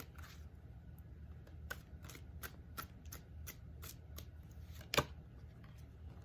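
Tarot cards are shuffled in a quick series of crisp riffles and snaps, faint and close, with one sharper slap near the end and no voices.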